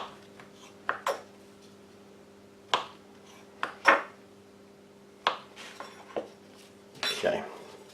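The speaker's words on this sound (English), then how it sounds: "just chopping them up there into little pieces" A knife cuts spongy blueberry turnover cake into small cubes, made as a dessert from military MRE leftovers. Sparse, irregular knocks and clinks of the blade on the board sound close by, with quiet gaps between them.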